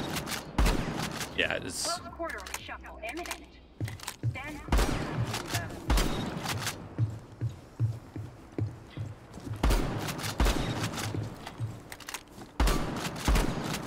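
Shotgun fire in Rainbow Six Siege, likely the Supernova, with several loud, sharp blasts spaced apart over steady game sounds; a voice speaks briefly between shots.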